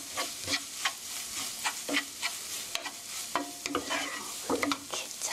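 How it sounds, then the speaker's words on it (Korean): A spatula stirs a tuna toast mixture in a pan, making soft, irregular scraping and sloshing strokes over a faint sizzle, close and quiet, with no voices. "이제는 주걱으로 섞겠습니다. 잘 어우러질 수 있게 이렇게"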